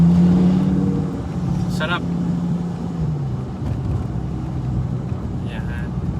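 Audi R8 V10 exhaust rumbling with a low steady drone that tapers after a couple of seconds, a voice speaking briefly over it.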